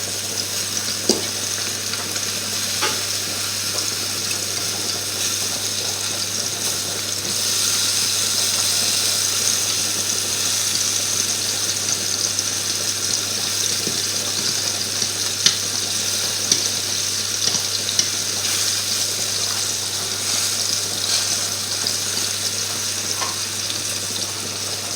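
Apple-filled boudin sausages sizzle steadily in a frying pan as they are turned over, a continuous crackling hiss with occasional soft clinks and scrapes, no one talking.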